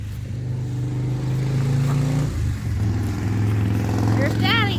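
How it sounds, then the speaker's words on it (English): Near a roadside with fall trees, a Harley motorcycle rumbles in a steady low drone that dips briefly and then returns, as its rider comes down the road and a voice talks over it. "And here comes Steven rumbling down the road."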